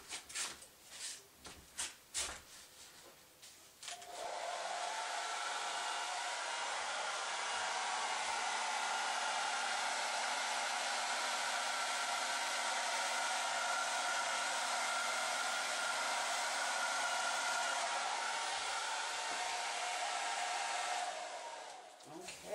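A hair dryer blowing on an acrylic paint pour with Floetrol and silicone on Yupo paper, starting after a few soft handling knocks and then roaring as a steady, close, loud airflow hiss for about eighteen seconds before cutting off.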